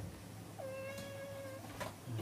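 A cat lets out a single clear, drawn-out meow over steady low room noise, followed by a faint short rustle.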